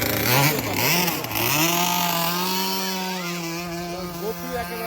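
Homemade speedboat engine running, a loud continuous buzzing drone that rises and dips in pitch as it revs, close and steady with no talk.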